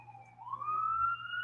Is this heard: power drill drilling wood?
no